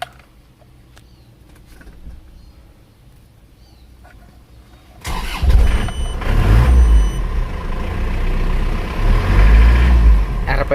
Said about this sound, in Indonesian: ini mesin sudah siap hidup. Kita hidupkan